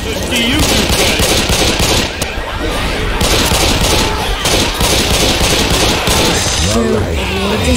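Gunfire in the zombie shooter Left 4 Dead 2, dense rapid automatic bursts and booms filling the whole stretch while players shout over the chaos.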